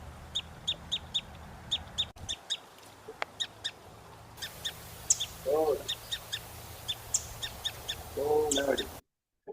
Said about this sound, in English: this is what a winter wren is supposed to sound like